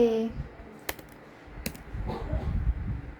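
Computer keyboard keys tapped a few times in quick succession for copy and paste shortcuts, light clicks close by, with a person talking faintly underneath.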